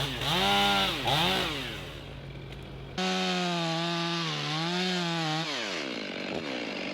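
A chainsaw runs at full throttle while cutting down a tree, its loud whining engine note rising and dipping as it bites, briefly easing off before revving again.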